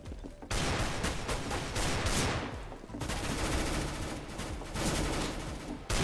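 Rapid automatic gunfire in the video game CS:GO, loud dense bursts of shots with a brief break near the middle before firing resumes.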